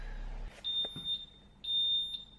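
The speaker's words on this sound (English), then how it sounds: "The beeps are distracting." A high-pitched electronic alarm sounds in repeated beeps, two or three long tones with short gaps, fairly loud in a quiet room.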